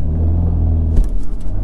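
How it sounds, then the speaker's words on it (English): A 2021 Mk5 Toyota Supra 2.0 launching with launch control gives a loud, close engine drone that climbs in pitch, then breaks into a sharper rising roar with a burst of noise as it pulls away. "Just gonna see the acceleration, launch control activated."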